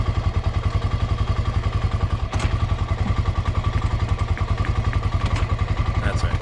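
A buggy engine runs steadily in first gear in a large backyard garden, a loud, close, rapid chugging pulse with occasional clunks and thuds as it drives, with no talk over it.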